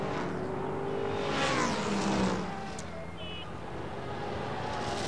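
Sports sedan race cars sweep past at Eastern Creek during a 1991 Australian Drivers Championship race, a building engine roar that swells and fades as they go by, heard from trackside under commentary.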